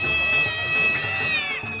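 A black cat gives a drawn-out, high meow that wavers and falls at the end, close and fairly loud over a soft background.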